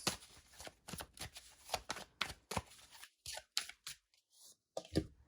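Tarot cards being shuffled in quick, crisp bursts of riffling and flicking, close up, with brief pauses between passes.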